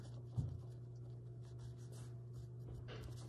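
A pencil scratches layout lines around the top and front of a small wood block being prepared for carving, a steady, soft, close scraping that continues almost unbroken.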